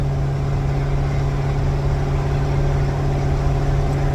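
A Ford F100 pickup truck engine runs steadily at idle, a constant low drone with a strong steady hum and no talk over it.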